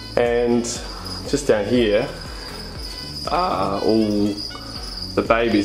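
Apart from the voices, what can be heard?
crickets chirping in a cricket farm tub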